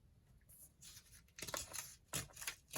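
Scissors cutting paper during a craft session making pockets, with several crisp snipping bursts of varying length, the strongest three in the second half, fairly close and quiet with no talk.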